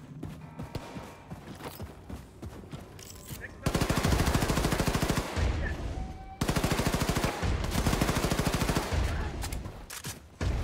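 Automatic gunfire in the video game Wolfenstein II: The New Colossus, in loud sustained bursts with rapid rhythmic shots. Two long volleys are separated by a short gap, and someone talks in the quieter stretch before them.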